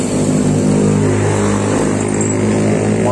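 A motorcycle with a leaking valve and no compression being kick-started, its engine sound running loud and steady close by, without talk.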